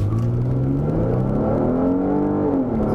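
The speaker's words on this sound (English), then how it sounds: "let's just do an acceleration." Chrysler 200C, a 295-horsepower front-wheel-drive sedan, accelerates hard on an empty road, its engine note rising steadily as the revs climb, heard from inside the cabin with no talking.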